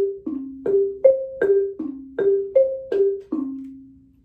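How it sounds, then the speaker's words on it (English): Xylophone struck with mallets, nine clear wooden notes in a bouncy alternating up-and-down pattern, each sharp attack ringing briefly before decaying, played close and alone with no talking. "This xylophone is going to play the monkey in our story"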